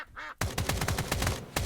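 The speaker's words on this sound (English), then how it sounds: "I heard multiple duck quacks." A cartoonish duck quack from the video game Escape From Duckov rises briefly and nasally, then gives way to a rapid burst of repeated gunfire-like pops that continues to the end.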